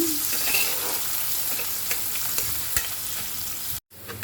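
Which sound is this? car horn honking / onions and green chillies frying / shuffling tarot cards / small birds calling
onions and green chillies frying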